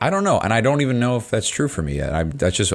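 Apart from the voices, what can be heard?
No distinct noise like a dog, phone or traffic.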